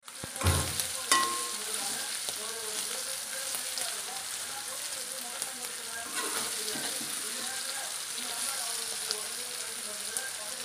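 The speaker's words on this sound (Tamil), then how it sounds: "அது தானாக ஃப்ரை ஆயிரும், அப்படியே விட்டுருங்க" Sea mussels fry steadily in a pan with a continuous close sizzle and crackle, a few louder pops near the start, and faint scraping from occasional stirring.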